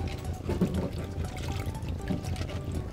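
Water pouring and splashing over fresh asari clams being rinsed, a close, continuous gushing and trickling sound.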